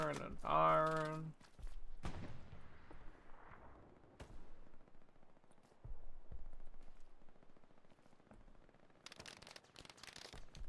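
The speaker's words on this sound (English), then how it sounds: "They're just firing and firing and firing." Enemy gunfire in a video game, bursts of shots and impacts scattered through the clip, with a rapid volley near the end, mixed with game sounds and a person talking over it.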